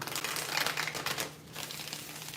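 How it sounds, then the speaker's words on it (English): A deck of tarot cards is shuffled close up in quick riffling bursts, papery flutters and snaps repeating for a couple of seconds. "These shuffles are longer than the readings, sorry."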